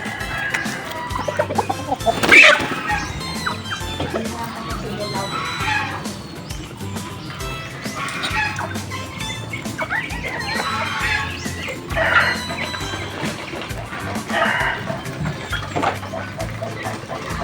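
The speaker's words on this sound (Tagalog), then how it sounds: "nakikisiksik yung mga itim na manok oh" Native chickens, including black ones, cluck and squawk nearby in scattered bursts during feeding, with occasional louder calls standing out against a busy, rustling background.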